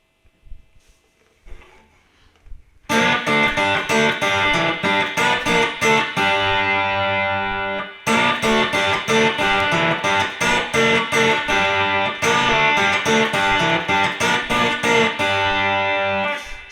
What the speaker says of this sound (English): outro riff, or just a little closing lick, which I'll show you.